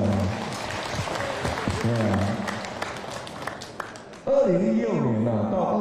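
An audience applauds at a campaign rally, with a broad steady wash of clapping under someone speaking through a loudspeaker, followed by his voice continuing louder over fading claps.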